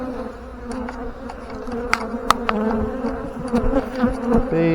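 Honeybees buzzing around an open hive during a frame-by-frame brood inspection, a dense nearby hum with individual bees droning past in brief louder swells.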